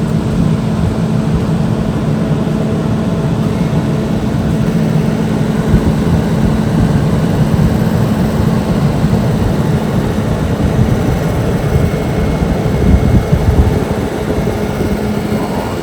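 Camper van interior fan on its highest setting: a loud, steady, close whooshing roar with a low hum underneath, unbroken for the whole stretch and without talking.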